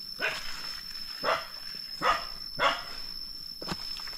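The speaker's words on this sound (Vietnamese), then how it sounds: "chó của trường đang sủa rất là gắt" A dog on a school's grounds near a forest barks fiercely in five sharp, spaced bursts, distant and moderately faint, with a steady high tone in the background.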